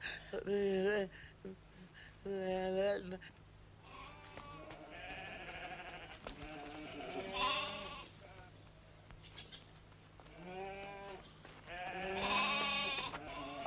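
Goats bleat repeatedly in a classic Indonesian comedy film, several wavering, quavering calls in bursts that are close and fairly clear, with other voices and sounds in between.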